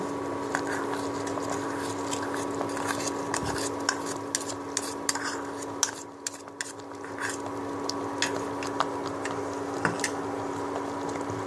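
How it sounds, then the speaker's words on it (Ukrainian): A spoon stirs a pot of peppers, carrots and tomato with salt and ground pepper, with steady soft scraping and light clinks of metal against the pan over a constant background hum. "І гарно розмішую."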